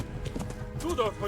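Horse hooves clip-clopping in the medieval video game Kingdom Come: Deliverance, quick rhythmic hoofbeats over a short stretch, with a voice talking over them.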